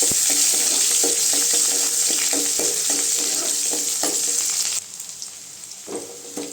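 Onions fry in a pan with cumin and dried red chilli for murungai keerai sambar, giving a loud, steady sizzle with stirring scrapes that drops sharply near the end.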